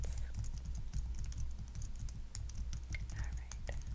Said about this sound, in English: I'm typing this up for you, so you don't forget any of these recommendations.